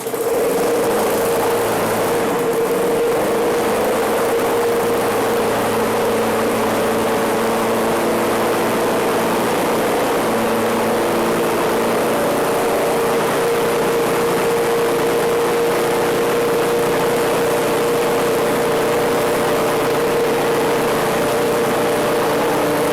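Small lawn mower engine fired up and held at speed around 3,600 RPM: a loud, close, steady buzzing drone with a constant pitch that runs unbroken for over twenty seconds, no voices.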